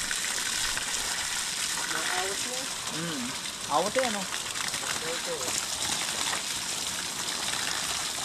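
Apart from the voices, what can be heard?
strong flow of water in a farm irrigation channel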